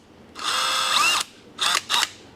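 A power drill whirs loudly for nearly a second, then gives two shorter bursts, close up with no talking.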